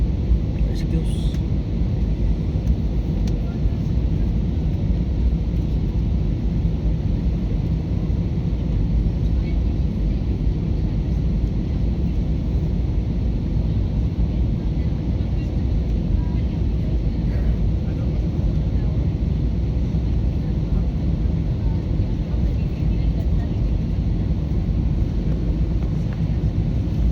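Cebu Pacific Airbus A320 landing at Cebu airport, heard from inside the cabin as a steady, loud low rumble that holds unbroken from start to finish, with faint voices mixed in.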